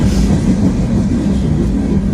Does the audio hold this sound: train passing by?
yes